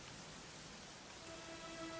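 Steady rain falls in the video game Dragon Quest XI, a soft continuous hiss of drops spread evenly throughout, fairly faint with no talking.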